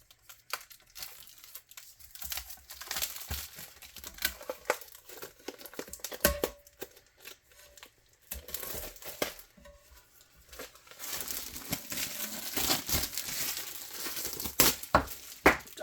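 Protective packaging corners are pulled off glass, giving close crinkling and tearing noises in irregular bursts with quieter gaps between them, no talk.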